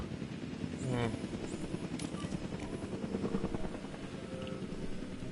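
A helicopter flying in the video game Jurassic World Evolution 2, its rotor throbbing in a continuous rapid chop at fairly close range, with a few faint chirps and clicks on top.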